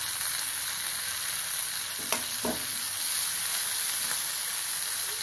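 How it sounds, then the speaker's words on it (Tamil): Onions and tomato fry in a pan with a steady, close sizzle and hiss, broken by a few brief stirring clinks and scrapes. "வெங்காயம் 1 நிமிஷம் வதங்கட்டும். இப்போ தக்காளி சேர்த்துக்கிறேன்."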